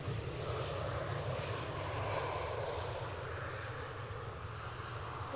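An airliner lands at Edinburgh airport, flaring nose-high on touchdown, its loud, steady jet engine roar filling the scene without a break.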